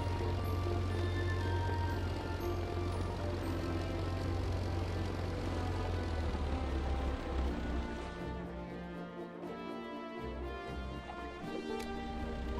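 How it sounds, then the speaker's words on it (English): A propeller plane in a video game gives off a steady, loud engine drone that fills the whole stretch and eases slightly toward the end, with no voices over it. "Just drift our plane."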